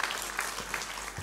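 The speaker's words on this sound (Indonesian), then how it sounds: "tepuk tangan yang luar biasa buat Tuhan." A church congregation claps during a Sunday service, a soft, dense patter of applause that swells loudly right at the end.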